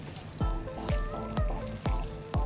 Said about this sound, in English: Add in your clean, deshelled and deveined prawns and saute on a medium flame.